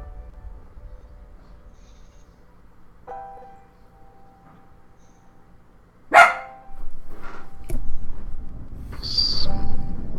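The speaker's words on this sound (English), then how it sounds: "They added a dog to the trailer." A dog barks once sharply amid the loud, busy audio of a game trailer playing at a press conference, followed by rumbling music and effects.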